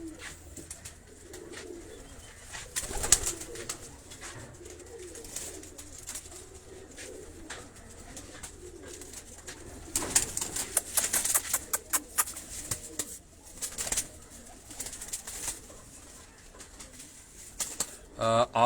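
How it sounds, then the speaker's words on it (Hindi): Breeder flying pigeons in Karachi coo in soft, repeated low throaty phrases near the listener, with scattered flutters and clicks, while someone talks intermittently over them. "ये वो कबूतर हैं"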